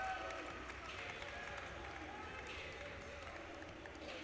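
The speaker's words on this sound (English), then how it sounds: "TJ DeFalco gets this crowd on its feet." Volleyball arena crowd cheering and roaring during a men's NORCECA Championship match between the USA and Cuba, a steady distant wash of voices with commentators talking over it.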